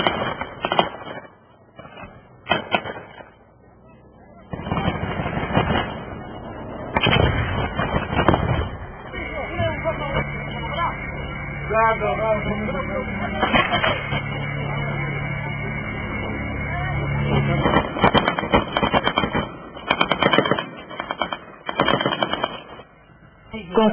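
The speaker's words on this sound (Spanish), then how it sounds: "Los militares estadounidenses se quedan en el castillo disparando." Gunfire from US soldiers firing from a castle in Bala Murghab, Afghanistan: scattered sharp shots and short bursts, some near and loud, others farther off, under a steady background and a narrating voice.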